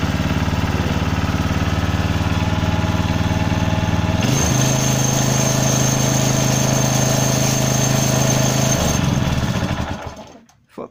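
A Tec petrol engine, freshly cleaned with its gearbox filled with oil, runs steadily and loud up close, its pitch shifting partway through before it cuts out near the end.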